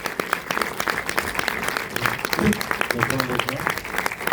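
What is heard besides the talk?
audience applauding the film director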